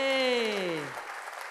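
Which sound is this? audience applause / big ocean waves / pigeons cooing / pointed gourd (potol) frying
audience applause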